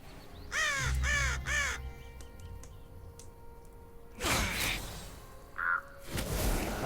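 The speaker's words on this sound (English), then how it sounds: "Not letting that bird get a pick." A crow caws three times in quick, harsh succession in a video game, followed by faint game ambience, whooshing swipes and a short higher call.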